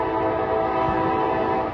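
Amtrak train sounding its horn while passing Depew station, New York, at full speed: a loud, sustained chord blast close by, steady and unbroken for the whole moment with rumbling wheels beneath.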